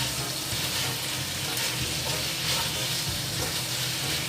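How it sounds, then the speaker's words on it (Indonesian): Chicken with soy sauce being stirred in a frying pan for spicy chicken: a dense, loud, continuous sizzle fills the whole stretch and never lets up. "setelah kita beri kecap asin, kita aduk ya selama kurang lebih 1 menitan"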